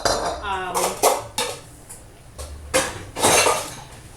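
A larger mixing bowl is handled in a kitchen while cornbread stuffing is being made, giving a series of loud, close clanks and ringing knocks with short gaps between them and no talk.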